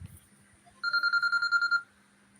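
A telephone rings with a rapid electronic trill, one burst of about a second of even pulses, clear and close in a quiet room.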